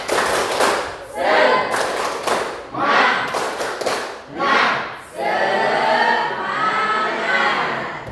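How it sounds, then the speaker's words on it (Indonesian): Schoolchildren in a classroom perform a rhythmic group clapping chant, bursts of unison claps mixed with shouted voices in repeated phrases, ending in a longer sustained shout of the whole group. "Tepuk semangat."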